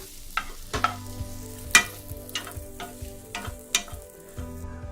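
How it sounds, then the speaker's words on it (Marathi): Small bread pieces toasting in a spoonful of oil in a pan, with soft steady sizzling and a series of clinks and scrapes from a spoon stirring them, close and fairly quiet. "आता ब्रेड त्याच्यावर परतून घेऊया"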